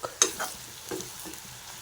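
Gundruk stirred into a pan of fried potatoes, giving a quiet sizzle with a few scraping stir strokes, one sharp clink near the start, faint and close with no talking.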